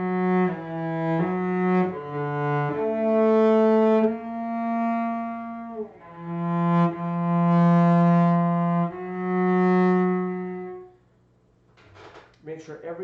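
Cello played with correct bowings and approximate rhythm, sustaining a slow phrase of bowed notes that includes some longer held tones, clear and close, before fading into a brief quiet pause.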